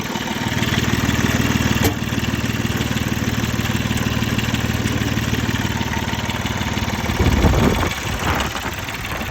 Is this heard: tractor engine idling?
yes